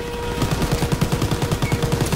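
Rapid automatic gunfire in a fierce firefight aboard a train, a dense string of sharp, evenly spaced bursts that run steadily without pause.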